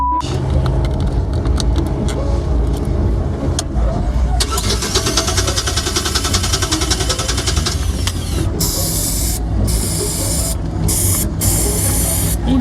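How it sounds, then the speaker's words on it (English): Carb cleaner hisses from an aerosol can into a cheap carburetor on a small budget boat engine. Long sustained sprays come near and loud, then shorter bursts, over a running, cranking engine with speech. "We'll give her some of the old carb cleaner."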